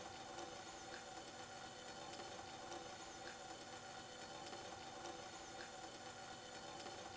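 A Jet-son Remote camping stove burns steadily with a constant roaring hiss as water boils over it, a quiet even rush with faint crackles and no voices.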